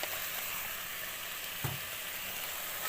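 Beans, carrot and potato fry in a pan with a steady hiss of oil, nearby and even, and one brief stir or clink partway through; no talking.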